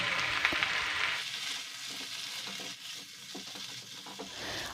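Onions and chicken sauté in a pan for a chicken stew, a soft, close frying sizzle with stirring scrapes, brighter at first and then settling into a quieter, crackly simmer, with no speech.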